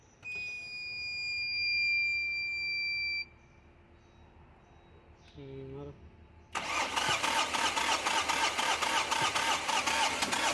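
After a brief electronic beep and a short tonal chime, a Tata Magic Express BS4 with a starting fault cranks on its self-starter, giving a loud, rhythmic, close-up churning that continues steadily to the end.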